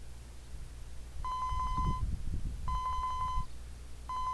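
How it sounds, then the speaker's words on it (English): A cell phone rings in the video game 428: Shibuya Scramble, giving repeated electronic tone bursts at a steady rhythm over a low background rumble with no voices. "Osawa's cell phone rang."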